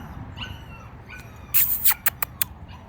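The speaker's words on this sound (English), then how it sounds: "All right, there's your little puppy, Dennis." A puppy whimpers softly, then lets out a few sharp high yips and squeals close by, the cries coming in short bursts.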